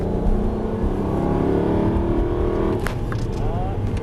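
An Aston Martin Vantage V8 pulls through a turn on a track, its engine droning steadily up close before the pitch climbs as it accelerates again near the end.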